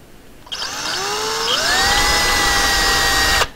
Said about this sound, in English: I've got a drill here. I like to use a hand drill for when I'm doing my pinning.